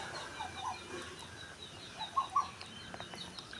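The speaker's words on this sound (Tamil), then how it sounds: "கேட்போருக்கும் பார்ப்போருக்கும் ஆனந்தமாக பறவைகள் அங்கே" Birds call outdoors at a house entrance among trees, shrubs and climbing plants. The chirps are faint and scattered, with two slightly louder calls near the middle, and no one speaks.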